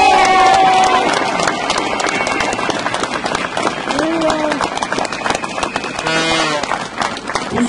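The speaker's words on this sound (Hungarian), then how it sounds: "Tapsoljuk meg őket," A crowd applauding hunger strikers at a street protest by the public television building on 31 December 2011: dense, sustained clapping and crowd noise close by, with an amplified voice speaking over it.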